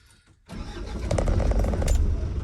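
An Isuzu NPR/NKR truck's diesel engine cranks briefly, then catches and settles into a loud, steady rumbling idle close by.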